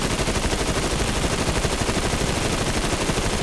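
An aircraft machine gun firing in War Thunder, a relentless rapid rattle of rounds at full loudness with no break, close and harsh.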